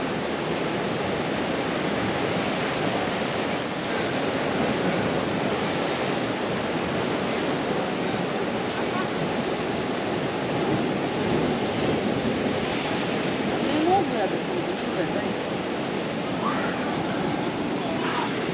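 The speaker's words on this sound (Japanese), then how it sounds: "少々海が荒れておりますけれども、エメラルドグリーンの色をしているのがはっきり確認できます。" Rough sea off the old town of Dubrovnik, Croatia, churns in a continuous broad roar of surf, steady and fairly loud, with some wind buffeting the microphone and no clear speech.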